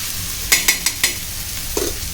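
Crab stuffing masala being sautéed in a pan over a medium-high gas flame, with a few sharp stirring scrapes and clacks over a steady soft sizzle, close and alone without talk.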